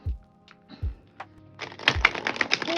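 A new deck of tarot cards is tapped a few times, then shuffled in a dense, crisp riffle of papery clicks that grows louder and busier toward the end.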